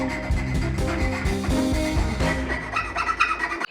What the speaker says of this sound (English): I did a final cleaning up with some files.